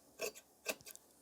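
Scissors snip through men's shirt fabric in a few short, quiet crisp cuts, two stronger strokes spaced apart with lighter ones following, in a tailoring setting without talking.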